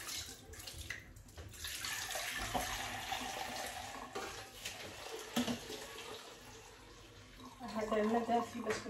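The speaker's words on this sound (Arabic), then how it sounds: "هذا الماء دافي باش كنعجن" Warm water running from a kitchen tap for kneading dough, a steady splashing flow that swells and eases, with someone talking over it.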